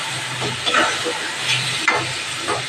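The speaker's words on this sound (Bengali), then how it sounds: "এবার একটু ভালো করে কষিয়ে নেব।" Pumpkin greens sizzle and hiss as they sauté in fish oil in a pan, a steady broadband crackle with occasional louder bursts and soft scraping as the greens are stirred.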